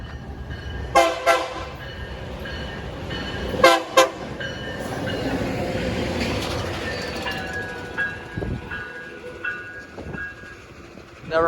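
Light engine locomotives rumble past near Depew, New York, sounding two pairs of short horn toots in the first four seconds before the steady rolling rumble carries on at moderate distance.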